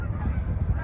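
A goose honking at dusk near nearly frozen open water, a single short nasal honk close by, with low rumbling background noise and no talking.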